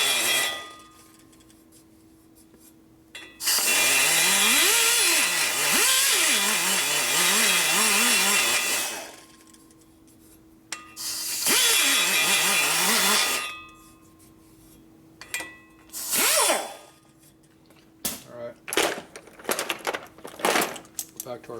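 A die grinder ports the cylinder head of a 1974 Harley-Davidson 74ci shovelhead engine, with loud, high-pitched whining bursts that rise and dip as the bit works the port, separated by quieter pauses and a few short final touches.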